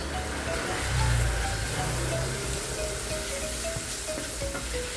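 Tomato paste fries in a pan as the base for a giant squid dish, giving a steady, dense sizzle that stays even and close for the whole stretch, with no talk.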